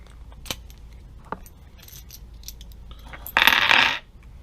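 Metallic clinks from a Taurus 605 .357 Magnum revolver being unloaded: a few sharp separate taps, then a short burst of cartridges clattering together, close and fairly loud.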